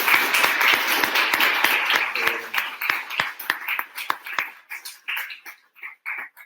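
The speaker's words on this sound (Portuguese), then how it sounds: "Eu vou pedir uma salva de palmas também" An audience at a sociology seminar gives a round of applause in honor of a participant, dense clapping at first that thins into scattered individual claps and fades out.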